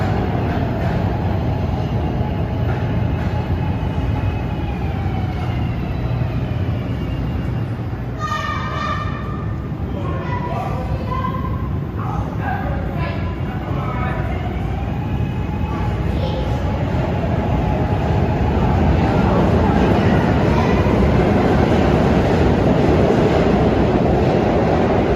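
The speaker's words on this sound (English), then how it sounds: "Here comes a Frankfurt-bound Market Street subway train." A Frankfurt-bound Market Street subway train pulls into a Philadelphia station, a steady loud rumble with squealing wheel and brake tones rising midway, with brief speech mixed in.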